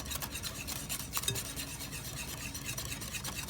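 Mustards being mixed by hand in a bowl, a quiet continuous scraping and stirring with faint clinks of the utensil against the bowl, with no talking.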